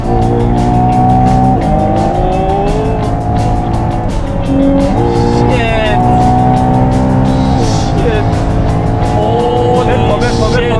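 A Ferrari Purosangue engine revs up loudly and repeatedly, rising in pitch with each gear before dropping back, steady and close throughout with a roaring drone.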